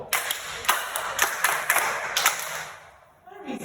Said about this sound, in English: Please, can you clap in?